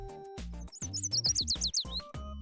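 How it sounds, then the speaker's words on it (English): Birds chirping in the video game Blue Archive: a quick run of bright, rising and falling tweets over a steady low musical backing, clear and close, with no talking. "the music of birds playing and chirping joyfully"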